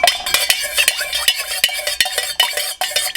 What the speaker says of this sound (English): And I'm gonna stir this one.